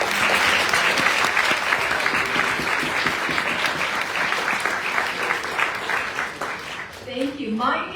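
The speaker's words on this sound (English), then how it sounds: "Please give them all a big round of applause." An audience at an indie book awards ceremony applauds the winners and finalists, a loud, dense wash of clapping that holds steady and then thins out near the end as a voice begins to speak.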